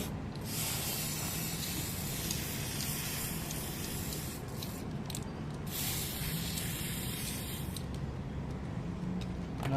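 Steady hiss of an aerosol can spray-painting a Tamiya Mini 4WD Toyota TS050 model car body continuously close up, with a few slight rattling shifts and brief pauses in intensity.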